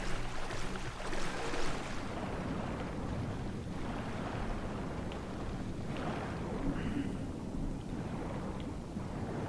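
Lara Croft diving underwater into a passage toward a temple in Tomb Raider Anniversary: a muffled, rushing water ambience with a heavy low rumble. It is strongest at the start, then settles into a steady murky wash.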